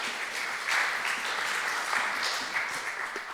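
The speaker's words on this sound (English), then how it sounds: "Let's have a round of applause here." Session attendees give a short, steady round of applause after a speaker. The clapping stays even and moderately loud for a few seconds with no speech over it.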